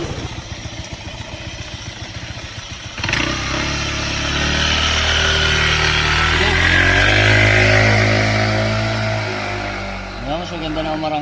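A Yamaha Sniper 155 VVA motorcycle engine idles with a rapid putter, then rises into a loud, sustained rev and acceleration, its pitch climbing and falling off near the end.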